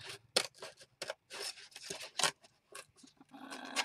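Scissors snip and trim the cardboard of a tea box in a quick series of crisp, close cuts with short rustling pauses between them.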